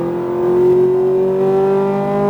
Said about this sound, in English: Accelerate all the way to that braking point